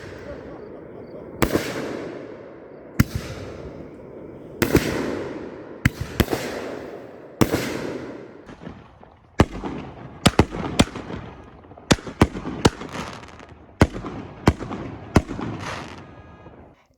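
Artillery shell fireworks, both canister and ball shells, launched from a tube one at a time: a string of sharp bursts and booms with crackling tails. They come at irregular intervals over a steady background rumble, and faint voices can be heard.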